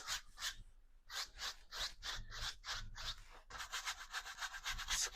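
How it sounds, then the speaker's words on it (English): A paintbrush scrubbing paint onto canvas makes close, soft, rhythmic rubbing strokes in quick bursts with brief pauses, then a denser run of scrubbing, with no talking. "Scrub on some of that paint."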